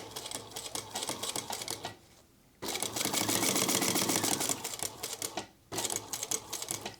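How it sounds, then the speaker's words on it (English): A sewing machine runs a straight stitch on bag fabric, a rapid, loud mechanical clatter in long continuous bursts broken by two brief pauses as the fabric is adjusted. "we're going to do a straight stitch directly on that line"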